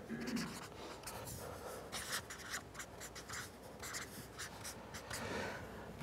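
A pen scratches across a sheet of paper in short, steady strokes, close and fairly quiet, continuing for several seconds with no voices.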